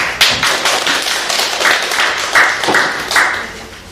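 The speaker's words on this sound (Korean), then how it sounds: "교수님 큰 박수로 맞아주십시오" Hall audience applauding to welcome a professor to a Catholic social teaching lecture, scattered claps rising and falling in uneven bursts, fairly close and loud.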